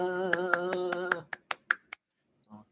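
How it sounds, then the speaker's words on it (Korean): A single person claps during a youth church Sunday service, first over a held sung or voiced tone, then five or six sharp, evenly spaced claps ringing alone in a quiet room, followed by faint murmuring. "박수 나만 치고."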